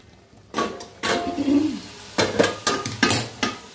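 A lid goes onto a pot of homemade Bengali dhaba-style chicken curry with onions, producing a run of close metallic clanks and clatters, with a faint sizzle from the pot between them.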